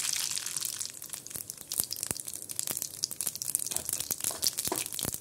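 Mustard seeds sizzle and pop in hot oil in a pan while a malai kofta curry gravy is started, a close crackling hiss with dense sharp pops scattered throughout and no voices.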